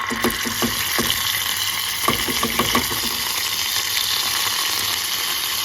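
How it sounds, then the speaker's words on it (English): Ginger goes into a hot pan for rajma over a lowered flame, setting off a steady close sizzle with a few sharp crackles and taps early on. "So I'm going to put the ginger."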